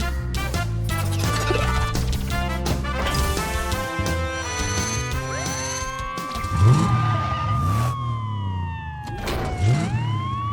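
A cartoon fire engine siren wails loudly alongside rising and falling electronic tones and busy musical sounds, continuous throughout.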